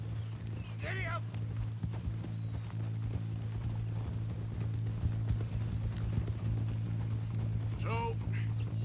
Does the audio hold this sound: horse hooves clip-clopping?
yes